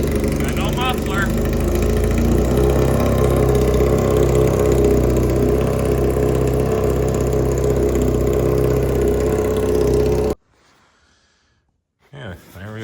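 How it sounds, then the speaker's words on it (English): A 1987 Honda CBR600F1 motorcycle engine idles loud and close with no muffler, burning carb cleaner, running steadily for about ten seconds before cutting to near silence and a brief voice. "There we go, she's idling. Still burning some cleaner out of the carbs."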